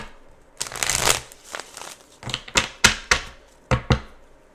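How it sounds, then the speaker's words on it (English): Tarot cards are shuffled by hand in a series of quick riffling and slapping bursts, close and crisp, separated by short pauses. "Let me do another shuffle."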